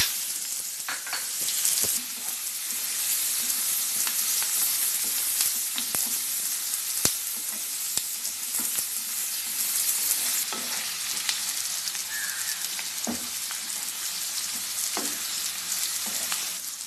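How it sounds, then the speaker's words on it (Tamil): Onions sizzle and fry in a hot pan, a continuous crackling hiss with occasional stirring clicks, no voices. "அதோட வெங்காயத்தை போட்டு வதக்குவோம்."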